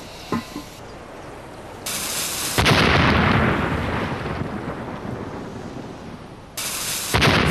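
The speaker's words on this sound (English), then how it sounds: "This early sledge-mounted cannon fires a 16-pound ball." Two heavy booming blasts from an early sledge-mounted cannon firing a 16-pound ball, the second louder and followed by a long rolling rumble that fades out, with a further boom near the end.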